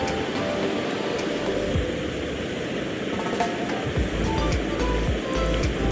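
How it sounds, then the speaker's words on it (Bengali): Chopped onions fry in hot oil and ghee while being stirred, a steady, dense sizzling hiss with occasional soft clinks and scrapes from the spoon in the pan, no voices. "এটা নেড়ে চেড়ে ভেজে বেরেস্তা করে নিচ্ছি।"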